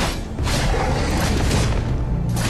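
Tower destruction explosion in the Arena of Valor mobile battle game, a loud dense booming blast with mechanical crunching that rumbles steadily for about two seconds, set over busy game effects.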